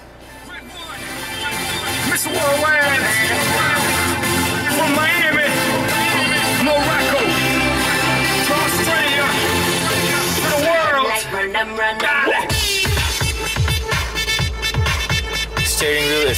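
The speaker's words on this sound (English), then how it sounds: "Let's just play a song" A song with singing plays over the stereo inside a 2009 Mitsubishi Triton DI-D pickup, loud and continuous, then turns choppier toward the end.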